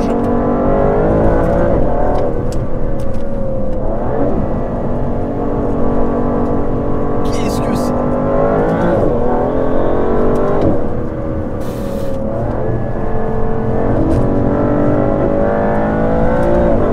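Aston Martin DBS Superleggera 725 hp engine revving hard under acceleration, a loud close roar that climbs quickly toward redline and drops at each rapid gear change, repeating through several upshifts with no talk over it.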